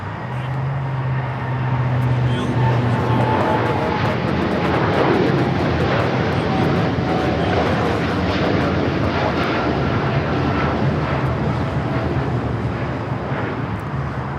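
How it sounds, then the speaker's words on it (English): A United Airlines Boeing 787-10 Dreamliner takes off at Los Angeles International Airport, a loud, continuous jet-engine roar that holds steady throughout, with some wind rumble on the microphone. "This is United Airlines Flight 39 taking off to Tokyo Haneda on the 787-10 Dreamliner."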